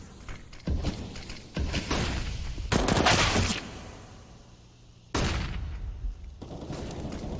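Rapid bursts of MAC-10 submachine gun fire in Counter-Strike on the Mirage map during a pro match, coming in several loud sustained volleys separated by brief gaps, with no talk over them.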